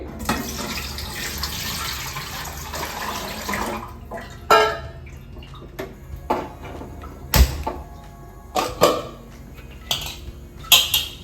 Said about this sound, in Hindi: अभी स्टीमर में हम पानी गर्म करने के लिए रखेंगे।